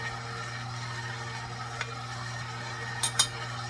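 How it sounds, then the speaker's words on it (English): Fruit cake batter spiced with cinnamon and nutmeg being stirred in a bowl: soft, quiet mixing over a steady low hum, with two brief sharp clinks near the end. "And we continue mixing."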